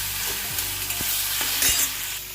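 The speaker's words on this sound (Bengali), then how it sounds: "এখানে একটু কাঁকরোল ভাজা করে নিচ্ছি" Spiny gourd fries in sizzling oil in a pan with a few scraping stirs of a utensil, close by and fairly loud.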